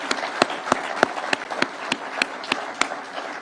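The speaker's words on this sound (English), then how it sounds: "please let us clap for those great people" Sparse, distinct claps sound at a slow, fairly regular beat for an election commission chairman and commissioners at a public gathering, moderately close, with a soft room wash beneath and no talking.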